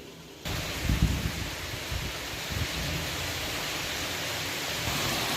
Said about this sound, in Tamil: செம்ம மழை பெஞ்சிக்கிட்டு இருக்கு